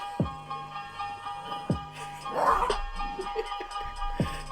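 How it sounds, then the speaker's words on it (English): A dog barks several times at a distance, sharp yips spaced a second or two apart, under a steady room hum with brief rustling. "Bad dog alert."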